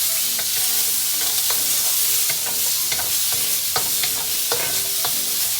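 Pork browning in a hot frying pan for Steve's Special, a steady loud sizzle broken by repeated scraping stirs with a utensil against the pan, no voices.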